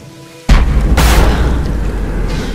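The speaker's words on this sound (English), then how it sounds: "why is it choosing now to explode?" A sudden loud boom in the Tomb Raider video game bursts in after a short quiet moment, followed by a sustained rumbling roar that slowly fades over the next two seconds.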